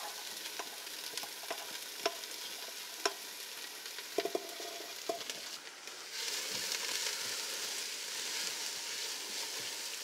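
Vegetables sweating gently in olive oil in a pan, a soft continuous sizzle with a few stirring clicks and scrapes early on, then a fuller, steadier sizzle toward the end.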